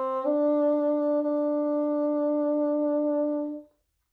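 A bassoon sounds a sustained low D from Debussy's Sarabande, rearticulated once after a brief onset. The reedy tone is steady and close, holds for about three seconds and then stops cleanly.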